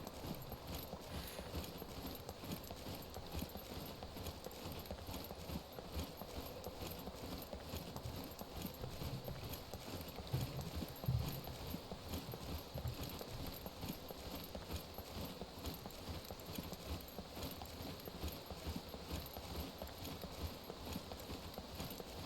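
Steady hoofbeats of a horse in the survival video game SCUM clip-clop at a trot beneath a constant hiss of background noise, continuing for a long stretch without pause.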